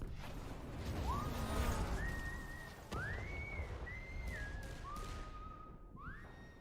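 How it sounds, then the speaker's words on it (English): A Destiny 2 character whistles a sustained, gliding tune in several long held notes with rising slides, heard over a soft rumbling game backdrop. "Is he whistling the Destiny song?"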